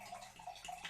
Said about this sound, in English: I'm going to pour some water.